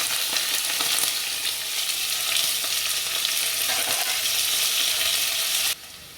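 Onions, garlic, green chilies and curry leaves fry in hot oil for a Tamil-style fish curry, a loud dense sizzle with stirring that drops abruptly near the end.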